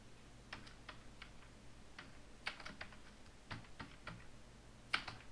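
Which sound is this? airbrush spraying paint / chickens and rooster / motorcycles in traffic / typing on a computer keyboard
typing on a computer keyboard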